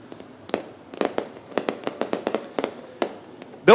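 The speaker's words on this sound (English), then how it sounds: "Fireworks going off here on the front stretch at Lucas Oil Speedway." Fireworks bang over the front stretch of Lucas Oil Speedway before a stock car feature, a rapid irregular string of sharp cracks and pops, some close and loud, others lighter, with no talk over them.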